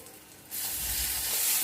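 A sudden loud sizzle bursts up as tempering spices hit hot oil, then a steady crackling hiss continues close by.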